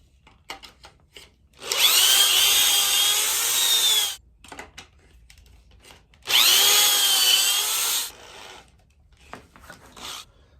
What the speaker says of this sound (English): So now I have my pocket holes drilled.